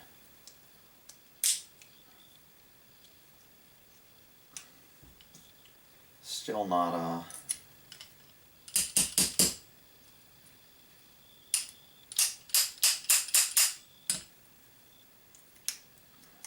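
A pin being hammered out of a Springfield M1A rifle trigger assembly, sharp metallic taps in quick clustered bursts, close and clear, with a brief spoken remark in between.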